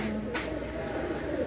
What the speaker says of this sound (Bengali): এটা হচ্ছে কেটিএম টেডি কবুতর।